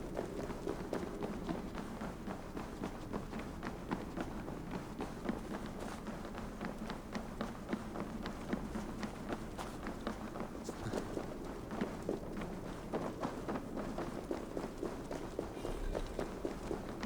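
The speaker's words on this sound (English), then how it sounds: "Footsteps?" Rapid running footsteps in Assassin's Creed Valhalla, a dense continuous patter of quick steps over ambient game noise, steady throughout with no speech.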